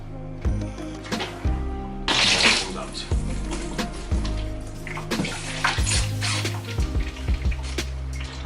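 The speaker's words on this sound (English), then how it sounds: "I'm just going to wait a little while now while this fills up" Water siphoned through a hose gushes and splashes steadily into a container, with gurgling and dripping, as someone briefly speaks over it.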